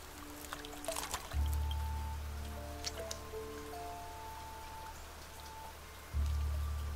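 Splashing water somewhere in the Niche creature game, soft drips and sloshes scattered over a calm ambient background with low droning swells, faint and intermittent.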